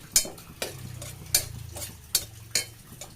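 Cardamom, cloves and cinnamon dry-roasting in a hot pressure cooker, stirred with a spoon in several sharp, evenly spaced scrapes over a faint low sizzle.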